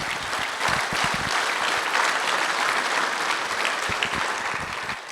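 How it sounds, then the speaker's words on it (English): A banquet crowd at a rodeo hall of fame induction gives a sustained round of applause, thick and steady clapping with a few sharper claps standing out, fading slightly at the end. "including a round of applause from us one more time"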